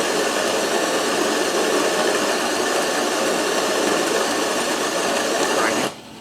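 Burr grinder inside a Spinn centrifuge coffee machine grinding beans, a loud, steady, harsh motor whir that holds level for about six seconds and then cuts off abruptly.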